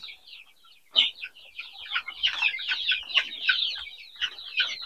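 Chickens in a semi-closed poultry house clucking and calling continuously, a dense chorus of overlapping bird voices with sharper clucks standing out, moderately near.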